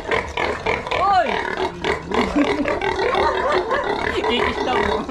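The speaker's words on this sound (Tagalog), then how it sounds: "Ayun na, nakita ko na yung baboy ni Ewat" Pigs grunt and squeal in a pigpen during feeding, nasal grunts and a rising squeal up close, with people talking in Tagalog over and between the animal sounds.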